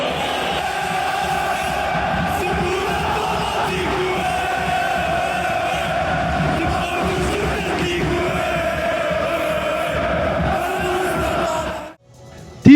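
Ultras Fanatic Reds supporters of CR Belouizdad chant and roar in unison inside a packed stadium during a quarter-final against Al Masry, a dense, continuous wall of crowd voices that cuts out abruptly near the end.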